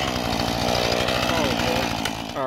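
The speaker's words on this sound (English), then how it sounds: "just ran the chainsaw ragged" A Husqvarna 435 chainsaw with a dull chain runs close by with a loud, steady buzzing drone, its pitch wavering slightly before it drops off at the end.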